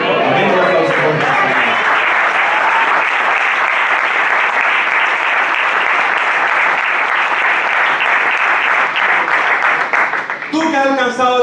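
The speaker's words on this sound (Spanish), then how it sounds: "Un aplauso fuerte." A church congregation at a Sunday service breaks into loud, sustained applause that roars on for about ten seconds, with a voice heard briefly at the start and again as it fades.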